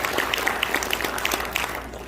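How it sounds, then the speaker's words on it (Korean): An audience at a Korean presidential campaign committee ceremony gives warm applause, dense continuous clapping with a few sharper individual claps standing out, filling the whole stretch without a break. "다시 한번 우리 뜨거운 박수 보내주시기 바랍니다"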